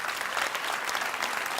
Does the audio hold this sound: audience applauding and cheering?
yes